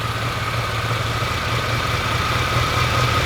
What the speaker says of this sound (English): So as you lean it, the RPM will pick up, right?